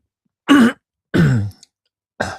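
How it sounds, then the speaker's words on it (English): Three harsh throat-clearing coughs, close and loud, each separated by a short pause of silence. "got the hiccups and coughing"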